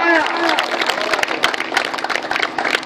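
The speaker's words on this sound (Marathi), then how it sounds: "आपण सर्वांनी जोरदार टाळ्या वाजून कुशिवडे संघाचं अभिनंदन करायचं" A crowd at a village palanquin competition applauds the Kushivade team with sharp, scattered claps that build into a brisk, uneven patter; a voice is briefly audible at the very start.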